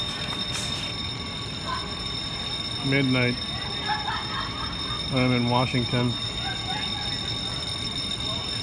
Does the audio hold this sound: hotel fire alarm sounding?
yes